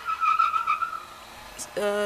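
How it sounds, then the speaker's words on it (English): A car passes outside a room: a broad wash of road and tire noise that rises and fades over about a second and a half, followed by a brief tonal engine whine near the end. "if you hear the car outside"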